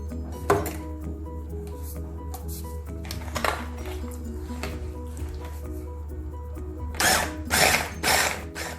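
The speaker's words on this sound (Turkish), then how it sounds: "Hepsini mikserden pürüzsüz olana kadar geçireceğim." An electric mixer whirs steadily as it blends cheesecake batter made with labneh cheese, giving a constant motor hum with rattling bursts near the end.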